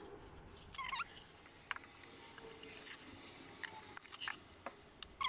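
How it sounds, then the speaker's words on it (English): Scissors snipping through a very thin piece of card during mixed media journal crafting, a few short crisp cuts close by and fairly quiet, with pauses between snips and no talking. "for that I have a very thin piece of card that I am going to cut down a little bit more"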